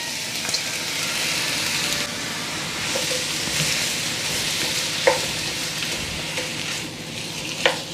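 Shrimps fry with chopped garlic in a hot pan, a loud continuous sizzle with a few clinks and scrapes of stirring, and no voices.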